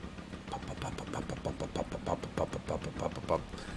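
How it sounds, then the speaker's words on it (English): A small single-cylinder ferry engine in Farming Simulator 17 putters with a rapid, even chugging pulse. Someone talks over the running engine. "Little single lung engine."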